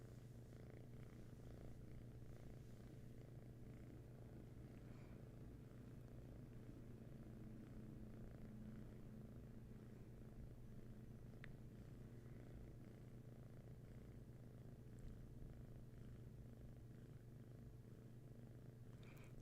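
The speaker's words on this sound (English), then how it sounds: "Not sure if you can hear the gentle purrs." A cat purrs softly and steadily up close, a continuous low rumbling vibration with no other sounds.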